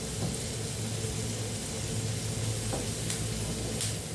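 Sausage frying with onions in a pan as black pepper goes in, producing a dense, even sizzle close by, with a couple of faint clicks and no talk.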